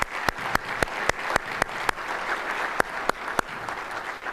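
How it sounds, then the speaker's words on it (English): Audience applause at a United Way annual meeting, a steady wash of many hands clapping with a few sharp louder claps standing out, moderately near and without talk. "Let's give them a very warm round of applause as well."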